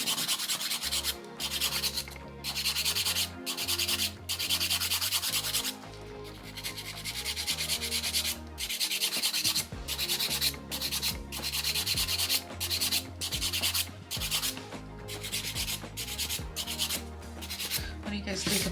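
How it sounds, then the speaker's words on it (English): A nail file rasps back and forth over polygel nails, making steady, rhythmic abrasive strokes with brief breaks, close and continuous throughout, with no voices. "you don't want to file it too much because then you'll get like stress cracks here."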